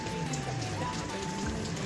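Steady rain patters on a surface in a brief, even wash of droplets, with a faint low hum in the background.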